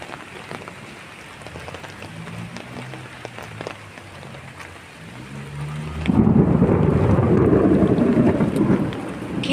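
Rain pours steadily with rolling thunder, the downpour swelling suddenly louder and denser partway through and continuing as a heavy, close wash of sound.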